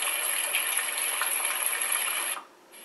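A BuffBee white noise sound machine plays its rain setting: a steady, dense hiss of falling rain that runs evenly and then cuts off abruptly near the end, leaving a quieter background.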